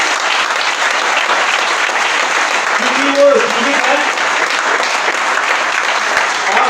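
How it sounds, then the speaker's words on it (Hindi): A church congregation claps loudly and continuously during a sermon, a dense, steady wash of applause with a preacher's voice briefly heard over it. "आइए जोरदार ताली प्रभु यीशु मसीह के लिए बजाएंगे"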